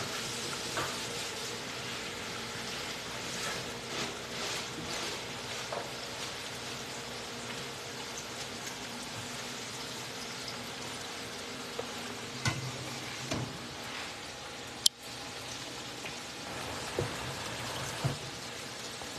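A battered lobster tail deep-fries in hot oil for a fried lobster sandwich, a steady crackling sizzle that runs throughout with occasional sharper pops and bubbling bursts, close and with no talk.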